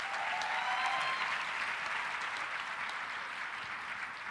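An audience at an evening gathering applauds steadily and fairly loudly for about four seconds, the clapping continuous and dense with no voices standing out.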